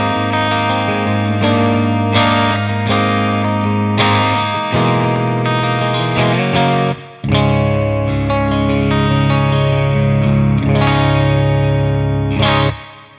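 Electric guitar played through effects with the pickup selector in the third position, giving a stringy, spanky tone; chords and notes ring continuously with a short break midway, loud and alone without talk.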